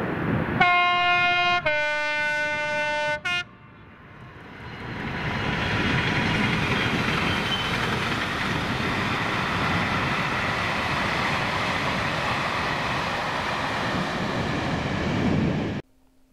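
A loud two-tone train horn blares, then a Class 66 diesel locomotive, 66545, rumbles past hauling an engineers train of ballast wagons in Scotland, a long, steady roar that ends abruptly.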